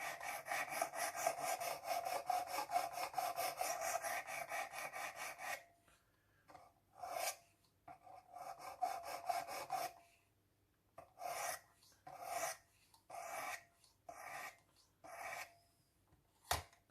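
A knife is honed on a Worksharp precision sharpening system, first with a long continuous rasping scrape, then a run of short, separate gritty strokes in quick succession, close and crisp.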